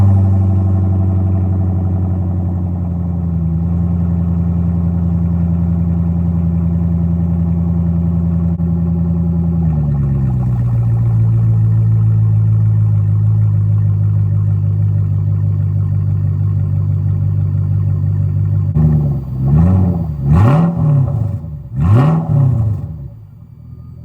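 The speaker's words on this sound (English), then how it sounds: "we're gonna start it up and see how she sounds" Mercedes W210 E-Class engine with a freshly fabricated custom X-pipe exhaust, idling steadily and loud, settling lower partway through, then blipped in several sharp revs near the end, with no talking.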